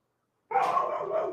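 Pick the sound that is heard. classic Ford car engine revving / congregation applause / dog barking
dog barking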